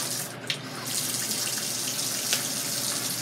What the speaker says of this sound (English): Now, I rinsed my fish off.